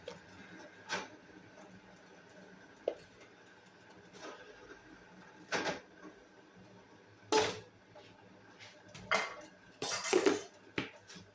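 Sugar being added to blueberries in a pot for jam, intermittent metallic clinks and scraping of utensils against the pot, a few louder bursts near the end, no talking.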